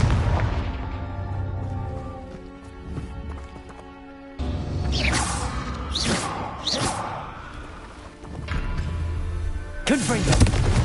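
Confringo spell blasts from Hogwarts Legacy on PS5 land as several loud booming explosions with crackling tails over a sustained game soundtrack, spread across the stretch, while a voice calls out spells.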